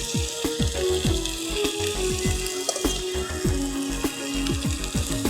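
Fried rice mixture sizzling in hot oil in a pan, with a steady bright crackle and hiss and repeated scraping and clanking of a utensil against the pan.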